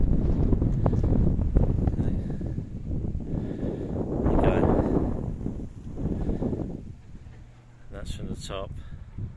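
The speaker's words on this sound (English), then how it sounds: "Very windy, actually." Strong, gusty wind buffets the microphone on a cliff top, a loud steady roar rising and falling, with a person talking over it.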